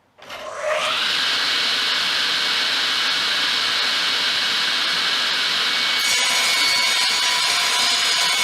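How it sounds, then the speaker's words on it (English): Hafco Woodmaster SB-12 table saw spinning up quickly, then a loud steady whine with a brief harsher change near the end as the blade cuts through wood, close and continuous with no talk. "let's go for a test cut."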